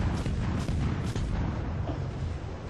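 Heavy naval gunfire from warships in a video game, a dense continuous rumble of booming volleys and bursts rolling over one another, loud and close, with no voices.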